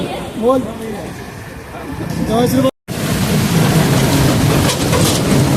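Heavy monsoon rain near the Red Fort in Delhi pours in a loud, steady wash close around, with a brief cut partway; people talk under the rain early on.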